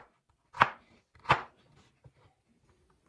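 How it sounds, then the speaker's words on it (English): A knife chops onions into cubes on a cutting board, giving two distinct, crisp chops about a second apart, followed by a faint tap in a quiet room. "then we can chop the onions"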